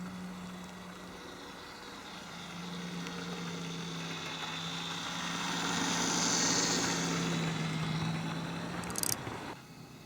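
A Hornby model diesel locomotive runs along a layout with a steady low hum and motor drone that swells louder midway as it draws near, then fades, with a brief click near the end.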